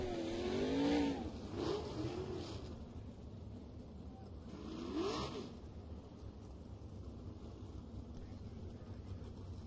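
Race cars circle a dirt track at Lake of the Ozarks Speedway during a night race, their engines rising and falling in revving sweeps over a steady rumble of crowd and track noise.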